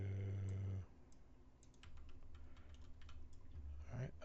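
Keys clatter on a computer keyboard in a series of quick, light, irregular taps. The typing is fairly close but faint and follows a brief low hum.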